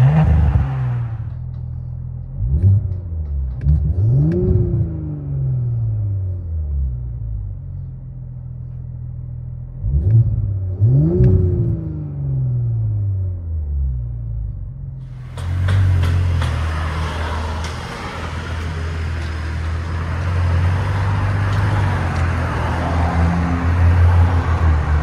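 A 2020 Audi S4 with a 3.0L turbo V6 and resonator delete, heard from inside the cabin: two throaty rev blips rise and fall, then a hard launch builds into a loud, sustained acceleration roar.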